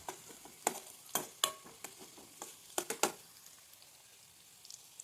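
Green chillies and garlic sauté in hot oil for a date pickle, with a quiet sizzle and a series of sharp, irregular spatters and stirring clicks close by and no talking.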